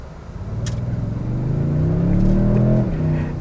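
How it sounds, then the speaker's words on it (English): A 2022 Toyota Tundra Capstone 4X4 hybrid twin-turbo pickup pulls away from a stop at full throttle, its engine note rising steadily in pitch and growing louder with a deep rumble. "But let's just floor it from a stop here."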